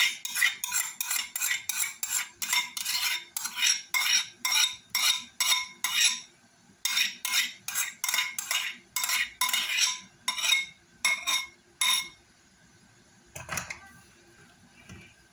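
A spoon mixing sixteen egg yolks in a bowl: brisk, rhythmic clinking strokes repeat close by, pause briefly, resume, then slow to a few last taps and a soft thud, with no speech.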